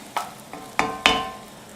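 Food frying in a pan: a few sharp scraping stirs over a soft sizzle, four distinct strokes in quick succession, close by.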